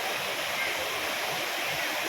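Water running through a forest stream near Vadattupara waterfall in Kothamangalam, a steady broadband rush with no pauses, close and fairly loud throughout.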